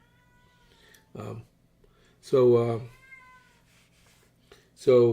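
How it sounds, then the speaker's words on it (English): A cat meows three times at intervals, each cry louder and more drawn out, with a faint voice briefly present. "there's that cat again"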